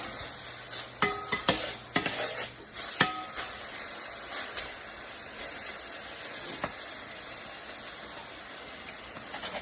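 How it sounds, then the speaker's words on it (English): Chicken pieces fry in a pan for a New Orleans-style gumbo, giving a soft, steady sizzle. A few sharp clanks and scrapes from stirring break in during the first few seconds. "Chicken's starting to sizzle and fry."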